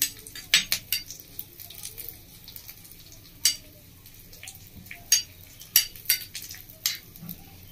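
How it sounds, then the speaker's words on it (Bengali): Whole spices such as fenugreek, cloves, cinnamon and cardamom stirred in ghee, with sharp metal spoon clinks against the pan over a quiet, faint sizzle. "দিয়ে আমি একটু ঘিয়ের মধ্যে ভেজে নেবো এভাবে নাড়াচাড়া করে"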